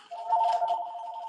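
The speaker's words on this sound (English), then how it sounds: "the phone is ringing" A steady electronic telephone tone rings once, a sustained warbling buzz that holds for about a second, fairly faint and alone.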